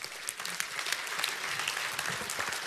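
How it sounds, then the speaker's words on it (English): A large seminar audience breaks into sustained applause, a dense, even wash of many hands clapping at moderate distance, with no clear talking over it. "Give everybody a hand."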